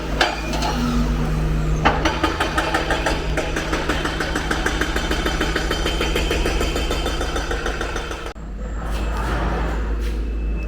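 Construction work up a hill near a house in Consolacion, Cebu, Philippines, with a steady mid-pitched engine rumbling throughout, carrying rapid rattling pulses, continuous and moderately loud, a brief dip near the end.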